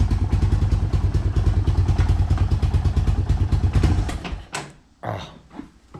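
A motorcycle engine idling just after starting, a loud, steady rhythmic putter at close range for about four seconds before it cuts out, followed by a few scattered clunks and handling noises.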